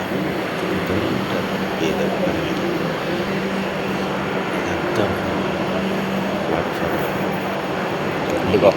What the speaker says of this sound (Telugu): వందే భారత్ ఇప్పుడే నేను దిగిన ట్రైన్ 1వ ప్లాట్ఫారం మీద ఆగింది